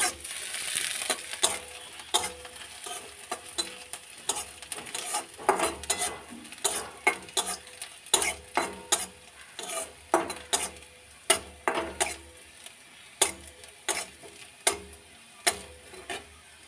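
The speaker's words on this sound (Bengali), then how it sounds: "লঙ্কা পেঁয়াজ ভাজা হয়ে গেল।" Chili and onion frying in a pan while being stirred, with a steady run of sharp scraping and tapping strokes over a soft sizzle. The strokes come close and fairly loud, and no one speaks.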